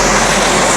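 Loud, steady roar of a Southwest passenger jet passing low overhead, filling the whole moment with continuous engine noise.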